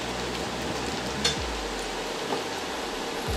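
Cooked bacon is scooped from a frying pan with a slotted spoon over a steady sizzle, with a few soft scrapes and clinks against the pan close by.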